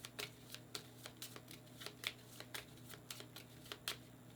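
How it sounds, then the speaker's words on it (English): A deck of board game spell cards is riffle-shuffled close by, giving quiet, rapid bursts of flapping card clicks repeated steadily over several seconds against a faint electrical hum. "So you're going to shuffle these."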